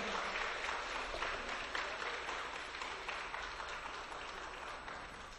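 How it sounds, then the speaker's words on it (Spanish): A congregation applauds steadily in honor of the Divine Eternal Father during a spiritual gathering, a dense, even wash of many hands clapping that carries on throughout and fades slightly toward the end. "Hemos tenido estos aplausos, hermanos, para el Divino Padre Eterno."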